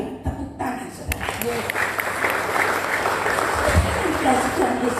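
A congregation claps during a Sunday sermon at an Indonesian Pentecostal church, a steady crowd clatter that swells after a few sharp initial claps, with a faint voice and a low thump underneath.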